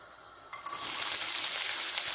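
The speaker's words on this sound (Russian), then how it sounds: "Нарезанный лук я отправлю в сковороду." Chopped onion from a single bulb drops into a pan with a tablespoon of vegetable oil over low heat, sparking a steady, moderately loud sizzle that starts abruptly partway in and continues evenly to the end.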